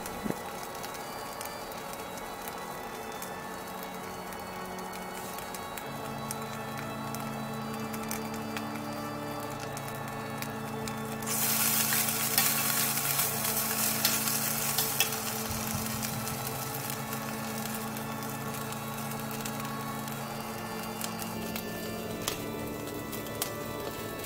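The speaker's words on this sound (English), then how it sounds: "What I want to do is stir them together to get all the flavor" Mapo tofu ingredients, including sausage meat, sizzle and fry in a pan while being stirred, giving a steady crackle and scraping that brightens into a louder burst of sizzling halfway through.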